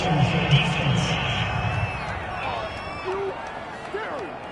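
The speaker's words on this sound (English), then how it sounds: "this crowd does not like that call" A professional American football stadium crowd reacting to a penalty call, a steady, distant roar of many voices with scattered shouts that carries on through the whole stretch.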